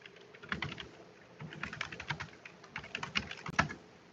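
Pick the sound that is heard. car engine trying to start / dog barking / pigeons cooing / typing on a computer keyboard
typing on a computer keyboard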